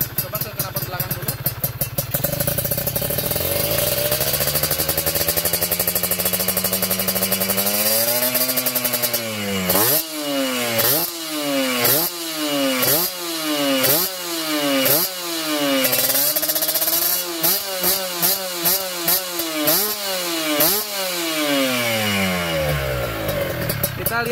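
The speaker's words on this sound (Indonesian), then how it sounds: "Nah ini suaranya memang lebih lantang ya, suaranya lebih lantang dari yang kemarin-kemarin karena ini lubang X-nya kita bikin beda ya" Kawasaki Ninja 2-stroke motorcycle with a modified exhaust revved repeatedly, loud crackling blips rising and falling in quick succession after a steady idle, close by.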